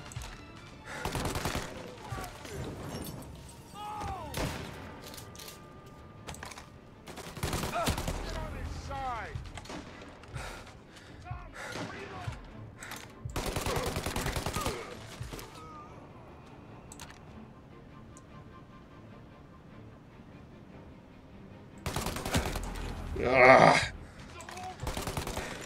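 Bursts of gunfire from the Mafia Definitive Edition video game: scattered single shots and rapid volleys interspersed with quieter gaps, with one loud burst near the end.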